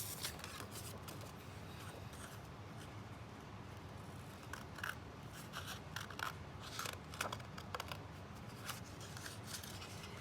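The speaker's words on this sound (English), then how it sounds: "I'm gonna cut this out." Scissors cutting a paper triangle out of a sheet: a continuous run of crisp snips and rustling paper, close and fairly quiet, with no speech.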